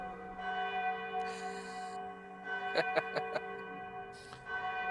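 A bell rings in several quick metallic strikes over a steady tonal hum, fairly faint, with brief brighter bursts around it.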